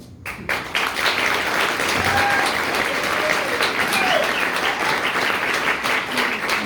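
Steady audience applause after a candidate's answer at a county Republican candidate Q&A, a dense wash of clapping that starts abruptly and holds at an even level throughout.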